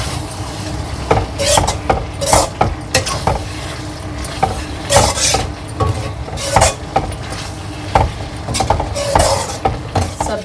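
A spoon stirs aloo gobi curd curry with a spoonful of ghee in a pan, with repeated scraping and clinking strokes in an irregular rhythm over a soft sizzle, close and fairly loud, with no talking.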